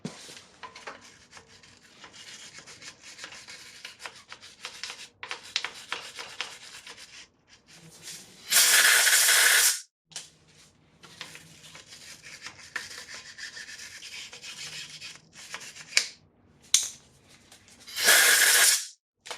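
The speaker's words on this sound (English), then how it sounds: "So I've got a wire brush" A wire brush scrubbing Acura MDX front axle parts, with long rasping strokes that come in bursts, a few very loud close scrubbing passes among them and brief pauses in between.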